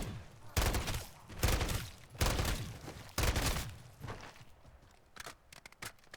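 Bursts of rapid automatic gunfire in the video game Call of Duty: Modern Warfare III Zombies, four loud volleys about a second apart followed by quieter scattered shots.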